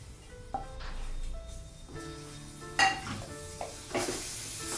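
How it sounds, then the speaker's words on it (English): A spoon stirs cooked broccoli paneer rice inside a pressure cooker, making faint metallic scrapes, ringing clinks against the pot and a soft hiss, close and quiet with no talking. "Give a stir."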